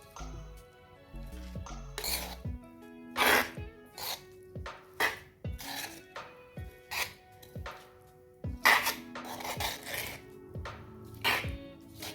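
Rujak u groh being stirred in a coconut shell bowl: irregular scraping and knocking strokes of a spoon against the hard shell, close and moderately loud, set against a steady background music track.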